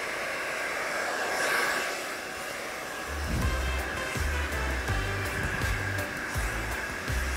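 A hair dryer fitted with a concentrating nozzle blows steadily close by while drying hair in a salon, a continuous airy whoosh with the low motor hum shifting and pulsing as the dryer moves.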